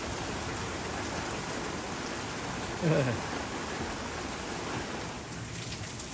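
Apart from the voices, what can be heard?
rain falling outdoors on trees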